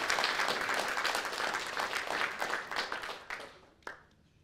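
A live audience at a friendlyjordies show breaks into dense, steady clapping that holds strong for a few seconds, then thins out and fades, with a few last scattered claps.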